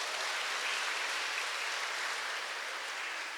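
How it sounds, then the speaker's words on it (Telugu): A crowd at the annual festival of a Marian church shrine bursts into sustained, dense applause, a steady wash of clapping that holds at full strength for several seconds with no voices above it. "అందరం ఒకసారి గట్టిగా చప్పట్లు కొట్టుకొని అభినందించుకుందాం"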